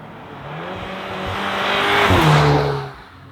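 A 2024 Audi S3 hot hatch accelerates hard, its engine note rising loud and close over a few seconds with a faint tyre squeal, then easing off at the end.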